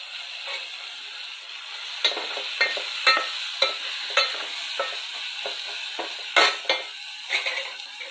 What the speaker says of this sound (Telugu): వీటన్నిటిని ఏ విధంగా చక్కగా ఫ్రై అయ్యేలాగా మిక్స్ చేస్తూ ఉన్నామండి ఒక నిమిషం పాటు